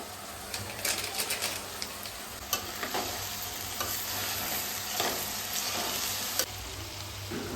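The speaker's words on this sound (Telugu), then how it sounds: "ఇది మనం బాగా కలపాలి వీటికి అన్నిటికీ పట్టేటట్టు బిర్యానీ మసాలా" Mixed vegetables with turmeric and biryani masala sizzle steadily in a pan for Hyderabad-style veg dum biryani, while a spoon scrapes and clicks against the metal at an irregular pace, close up and without talk.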